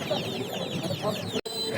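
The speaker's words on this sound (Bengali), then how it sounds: "এখানে খুবই সুন্দর একটা মোরগ আছে একটা মুরগি আছে" Chickens cluck in quick, overlapping calls at a busy rural poultry market, with crowd noise behind them and a brief dropout near the end.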